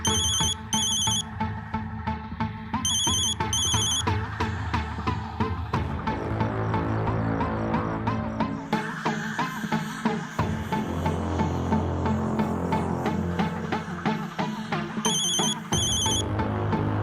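A phone ringtone plays while a call is placed to a father, a loud repeating electronic melody with bright chiming bursts recurring in regular cycles, alone and close with no voices.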